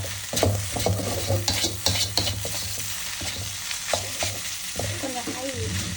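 A white mehun mixture is stirred in a pan while it fries, a steady sizzle broken by repeated scraping strokes of the spoon against the pan.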